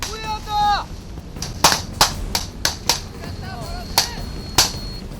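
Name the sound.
gunfire during night military combat training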